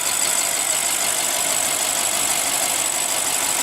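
A 2015 BMW 650i Gran Coupe with a 4.4 L twin-turbo V8 idles steadily, producing a loud, even engine drone with a constant hiss and no breaks.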